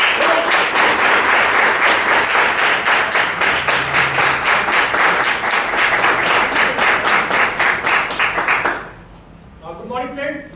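Loud, dense applause from a seated audience welcoming a presenter at a business plan show on Ravidas Jayanti, steady for about nine seconds before dropping off, with a voice starting to speak as it fades.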